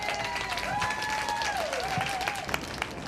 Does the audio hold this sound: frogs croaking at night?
no